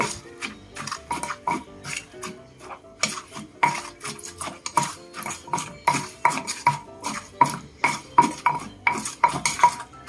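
Noodles being stirred with fish sauce in a bowl for a Thai pounded rice-noodle dish, giving repeated close scraping and clinking of a utensil against the dish in a steady, busy rhythm, with no talking.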